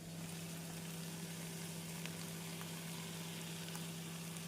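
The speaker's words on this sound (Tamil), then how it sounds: "இந்த அளவு மசாலாவுடன் வதங்கி வரவும் அரைத்த தேங்காயை சேர்த்து விடலாம்." Ground coconut paste sautés with masala in a pan for a Tamil banana-flower curry, giving a steady, faint, even frying sizzle with no talking.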